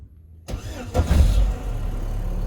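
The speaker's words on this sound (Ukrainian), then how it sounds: "Сразу заводимо машину." After a moment of silence, a Daewoo Lanos car engine cranks and catches, roaring up briefly before settling into a steady idle.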